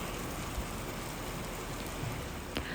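Steady rain falls outside a window, a continuous, even hiss of drops with no distinct pattern and no voices.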